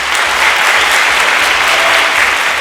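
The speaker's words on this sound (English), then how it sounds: "Can we give a round of applause for our contestants?" Audience at a quiz show gives contestants a loud, dense round of applause, a full sustained roar of many hands clapping evenly close by without pause.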